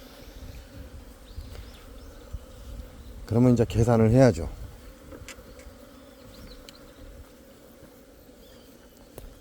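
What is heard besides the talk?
large numbers of western honeybees robbing a hive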